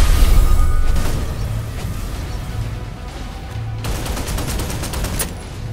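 Gunfire in the shooter game Snowbreak: Containment Zone forms a dense, continuous fusillade with crackling bursts and a rumbling low end, loud throughout with a sharper burst of shots near the end.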